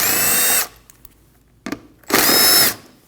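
A power drill spins out 8mm bolts behind the fender liner of a 2013-2019 Ford Escape, two loud whirring bursts close up separated by a quiet pause and a short clunk.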